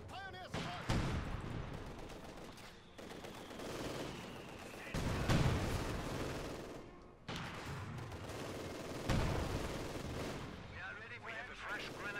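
A mortar half-track firing in the video game Company of Heroes 2, with heavy booming shots every few seconds over a dense battlefield din of scattered gunfire.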